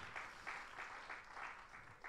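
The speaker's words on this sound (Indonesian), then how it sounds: "Beri tepuk tangan yang meriah buat Tuhan" A church congregation claps during a live-streamed worship service at Gereja Sungai Yordan in Singkawang. The applause comes in fairly soft, rhythmic pulses that repeat steadily for a couple of seconds.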